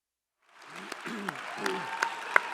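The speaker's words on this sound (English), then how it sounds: "How about another round of applause for Ron" Applause at a recovery agency event honouring a longtime staff member. It begins after half a second of silence and then builds into steady clapping with a few sharp individual claps and a murmur of voices.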